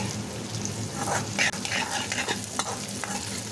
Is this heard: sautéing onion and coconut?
yes